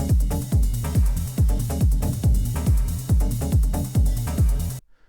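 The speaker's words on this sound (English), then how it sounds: "Another thing I added was a ride, more like a kind of a groovy driving ride." A steady, driving ride cymbal sample repeats on an even beat in a techno track, each hit ringing out with bright metallic shimmer, loud and close, then cuts off abruptly.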